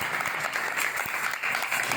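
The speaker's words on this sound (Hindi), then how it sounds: "तालियां तालियां" A church congregation claps together in sustained, dense applause, loud and continuous throughout with no pauses.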